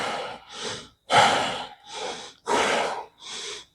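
Heavy, forceful breathing during a dumbbell chest workout: six sharp breaths alternating in a steady rhythm, each a loud burst of air lasting under half a second, close up with short pauses between.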